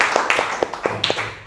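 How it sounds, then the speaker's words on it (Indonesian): A few scattered hand claps from a classroom, sparse and uneven, from a small group rather than full applause. "Sekali lagi ya kita beri tepuk tangan."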